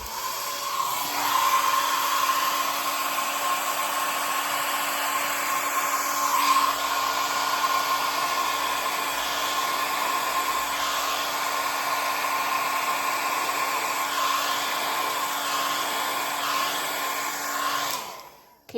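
Steady, loud rush of air from a hair dryer blowing across an acrylic paint pour, running continuously and alone for nearly the whole stretch before cutting off at the end.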